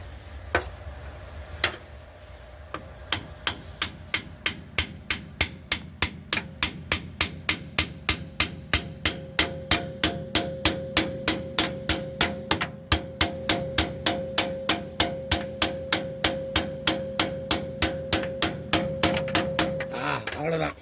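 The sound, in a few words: hammer tapping air dryer part into place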